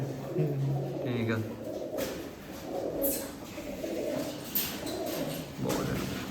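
Prize-winning pigeons in a loft give low, rolling coos that repeat at a steady close distance, with people talking over them now and then.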